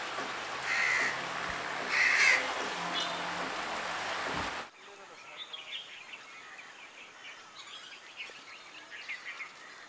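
Crows calling in Nepal, a few harsh caws standing out over a rushing ambient wash, then a sudden cut to a quieter outdoor scene with scattered soft bird calls.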